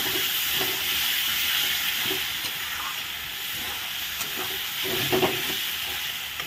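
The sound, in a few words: stirring spice masala frying in pan for boal fish head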